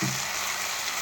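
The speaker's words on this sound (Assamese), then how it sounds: "ভোল আৰু আলু ভাজি আছোঁ মই।" Fish and potatoes frying in a pan give a brief, steady hiss of sizzling oil, close and continuous.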